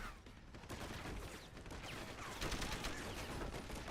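Dense, continuous gunfire from the video game Deus Ex: Human Revolution, rapid overlapping shots and bursts filling the whole stretch at a steady, loud level with no pauses.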